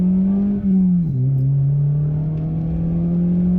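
An engine-swapped Ford, about a ton with roughly 135–140 horsepower, accelerating hard from inside the cabin: a loud, steady engine drone with a brief dip around a gear change, then pulling strongly again, no voices.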